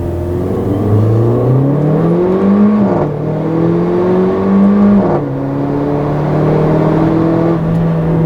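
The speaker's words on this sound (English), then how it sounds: "So it gives you just a little burbly pop when you let off" A 2015 Mercedes-Benz GLA 45 AMG accelerating hard through short gears from inside the cabin, with a loud engine rising in pitch, dropping at quick shifts and climbing again, without talking.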